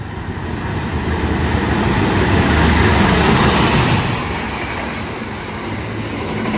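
At Kota Winangun station at night, a train runs straight through without stopping: a loud, continuous rolling rumble swells to a peak midway, then eases slightly but stays heavy.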